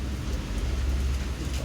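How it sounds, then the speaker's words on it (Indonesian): Steady heavy rain driven by strong wind, heard while sheltering in a concrete cave, a dense continuous roar with a strong low rumble and no pauses, close and loud throughout. "Hujan terus."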